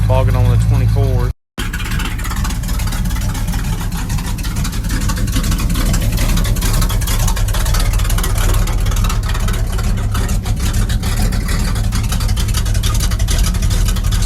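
Engine of a 1989 Chevy K1500 truck on 24-inch wheels bogging under load, a loud, close, labored rumble that drones on steadily after a brief cut near the start, with no talk over it.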